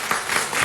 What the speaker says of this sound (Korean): 다시 한 박수.